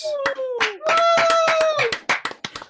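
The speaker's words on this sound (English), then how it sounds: "Round of applause, please." A few people in a podcast studio clap in short, sharp bursts while a loud sustained vocal tone rings over the claps, which become sparse, separate hits by the end.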